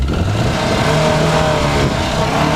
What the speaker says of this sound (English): Dude, give it some revs.